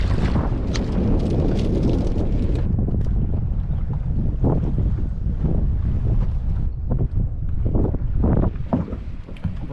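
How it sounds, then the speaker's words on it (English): Strong wind buffeting the microphone on open shallow water while fishing from a small boat, a loud, continuous roar with gusty rumbling throughout and no speech. "Righto, that wind is just not doing it."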